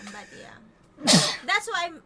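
A sneeze bursts out loudly in the middle of a casual podcast conversation, a single sharp exhalation set between stretches of ordinary talk.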